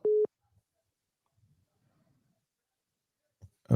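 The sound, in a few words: phone busy signal from dropped call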